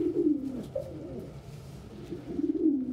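Pet pigeons or doves coo indoors, a male courting with repeated low throaty coos that swell at the start and end, close and fairly clear with no talk.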